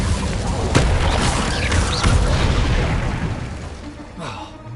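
The Incendio fire spell in Hogwarts Legacy goes off as a loud whooshing burst with booming impacts and crackling pops that fade toward the end, with voices mixed in.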